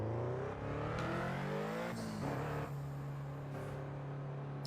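Ferrari engine in a racing video game at the pit lane exit, a steady droning hum that rises in pitch while revving, fairly faint and continuous, with no talk over it.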